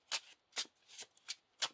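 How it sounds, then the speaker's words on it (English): Playing cards riffle-shuffled into the encounter deck during a Lord of the Rings living card game session, five quick crisp bursts in steady rhythm, close and fairly quiet with no voices. "We have to shuffle this into the encounter deck"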